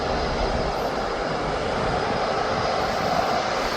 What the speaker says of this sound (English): Now the A220 is now just taxiing on